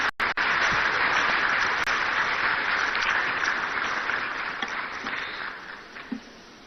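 Sustained applause from a large crowd, dense clapping at steady volume that gradually thins and fades toward the end.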